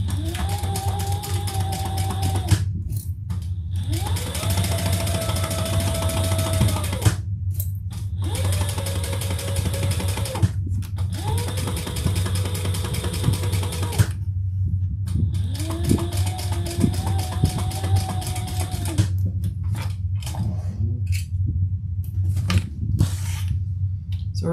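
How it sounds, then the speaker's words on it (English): A sewing machine stitches down the sides of fabric in several bursts of steady whirring, each a few seconds long with brief pauses between, close and loud over a constant low hum. "So we're sewing down the sides."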